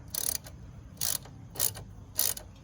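A ratchet with a 10 mm socket loosening a bolt on a 2005 Nissan Altima 2.5L engine near the passenger side motor mount, four close, crisp bursts of rapid clicking at a steady rhythm, with no talk over them.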